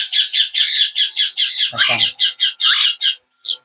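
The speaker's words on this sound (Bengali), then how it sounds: "কিন্তু ময়না পাখি দেখেন" Mynah bird chicks squawk in rapid, harsh bursts, a near and loud run of repeated calls with a brief lower throaty note partway through.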